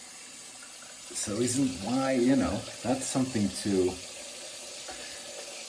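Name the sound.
running water from a tap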